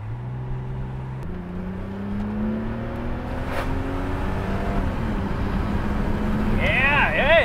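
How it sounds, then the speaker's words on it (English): BMW 635 CSi inline-six engine pulling hard on country roads, a steady rising drone heard from inside the car as revs climb through the gears, loud and continuous. "Listen to that typical inline six from BMW"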